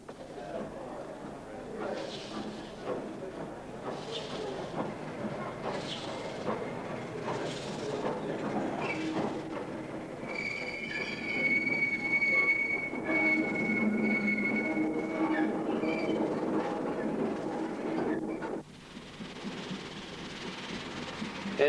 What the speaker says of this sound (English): As the locomotive runs round